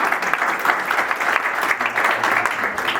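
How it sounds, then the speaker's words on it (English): Audience applause at a holiday social gathering, a steady dense wash of clapping that holds loud and even throughout without a break. "And applause to them as well."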